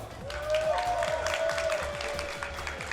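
A crowd applauds steadily with dense clapping, while a voice talks over it and a sustained tone hums in the background.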